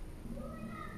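Newborn kittens, a few days old, huddled together for warmth and giving soft, high, faint mews in one short burst.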